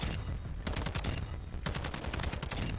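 Rapid full-auto bursts from a TAQ-56 rifle in Warzone 2.0, dense sustained gunfire in two or three long strings with brief gaps, loud and close with no talking.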